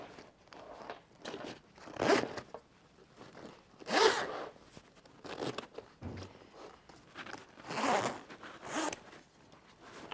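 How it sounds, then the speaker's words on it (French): A zipper on a floating fishing keepnet is pulled closed in several separate raspy strokes, each lasting about a second with short pauses between. The sound is close and fairly loud, with no speech. "Donc je remets la fermeture éclair."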